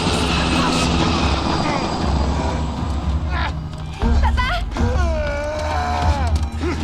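A helicopter passes in the post-apocalyptic game The Last of Us, a loud, steady rotor and engine drone filling the scene, with a voice speaking over it partway through.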